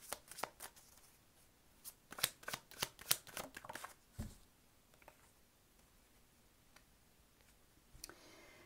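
Tarot cards shuffled by hand in a burst of crisp, rapid riffling flicks, clustered early and then thinning to a few soft scattered snaps near the end, close and fairly quiet.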